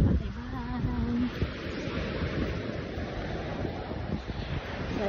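Sea surf at Boracay beach rolls in as a continuous broadband wash with wind buffeting the microphone, a faint voice briefly audible early on.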